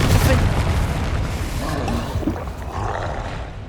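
Bombarda blasting spell in the Hogwarts Legacy video game: a dense run of loud, booming explosive bursts with rumbling low-end impacts, blended with other spell effects in a continuous roar.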